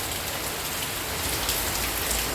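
Heavy rain pours down steadily and loudly on surfaces all around, a dense continuous hiss with no pauses and no voices.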